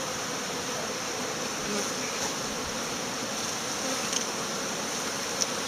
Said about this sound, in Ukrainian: Літають бджілки, літають.